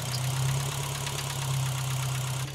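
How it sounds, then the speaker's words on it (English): A 600 HP Subaru WRX STI with a Link ECU and raised fuel pressure idles steadily nearby, giving a constant low, throbbing hum with no talk. "It is idling better than it ever has."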